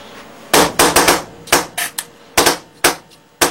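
An AGD Automag paintball marker with an RT trigger fires in loud, sharp cracks, about eleven shots in quick uneven bursts with brief gaps, close by and with no voices.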